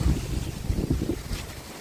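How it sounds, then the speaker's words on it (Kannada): Strong gusting wind roars steadily during a nighttime thunderstorm, a dense low rumble of wind buffeting the microphone with trees thrashing, no voices. "ಸಿಕ್ಕಾಬಟ್ಟೆ ಗಾಳಿ"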